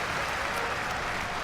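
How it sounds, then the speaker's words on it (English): Stadium crowd in the Madden 23 football video game, a dense continuous roar of cheering and noise, loud and sustained with no distinct individual voices. "Plenty of shouts from this crowd as they watch the replay"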